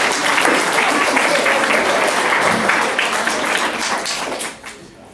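An audience at a children's literary contest award ceremony in Olsztyn bursts into loud, close applause, a dense crackle of many hands that holds for about four seconds before dropping off sharply near the end, with brief voices beneath.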